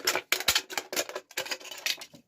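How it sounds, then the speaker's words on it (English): Scissors cutting through thin aluminium sheet for resin-inlaid pine coasters, a quick series of close, crisp metallic snips and crunches in an irregular rhythm. "it's just a simple case of popping your scissors in, and you can cut it like that, no problem"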